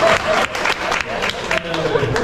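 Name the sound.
audience applause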